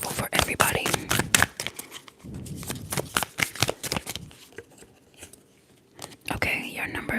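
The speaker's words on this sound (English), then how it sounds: "So I will shuffle first." Tarot cards are shuffled in rapid riffling bursts with soft snapping, close to the microphone, between quiet pauses and under whispered talk.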